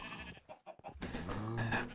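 Blocky Minecraft sheep bleat twice in quick succession, a short nasal cry followed by a longer wavering one, close and fairly clear over game background noise.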